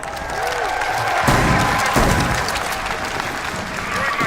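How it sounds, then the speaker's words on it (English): Loud, continuous crowd applause and cheering fill an esports arena at a Rainbow Six major final in Atlanta, with a few sharp bangs and an announcer's voice over the roar. "Give yourself a round of applause."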